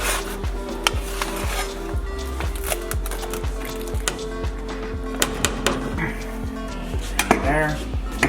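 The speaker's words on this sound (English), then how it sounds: "What I like to do is slice it in half once, slice the other half, and I'll go quarter slices after that." A take-and-bake pizza is sliced into quarters in a still-hot pan, with repeated scraping cutter strokes and light metallic clinks of the pan, close and fairly steady, with no talk.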